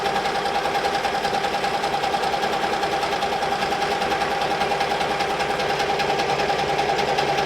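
Ricoma embroidery machine sewing the second color of a two-color 3D design as test stitches, a steady, fast mechanical chatter with a constant hum, close and loud, unbroken for the whole stretch.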